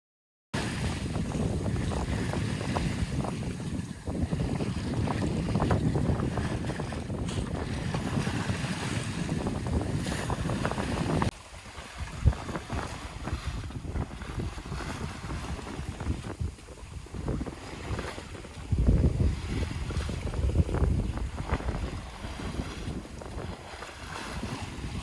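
Wind buffets the microphone aboard a sailboat under way, a loud, steady roar with gusty swells, over water sloshing against the hull, for the whole stretch.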